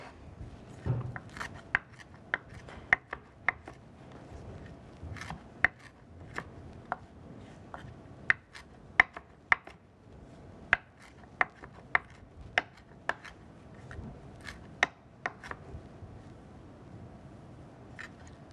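A knife chopping spinach on a cutting board, irregular sharp taps in quick bursts, close and fairly quiet with no talking.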